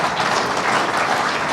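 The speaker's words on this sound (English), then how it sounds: "Let's give him a round of applause." Audience applause for a guest speaker at a supply chain security talk, a brief, steady wash of clapping from a crowd with no break.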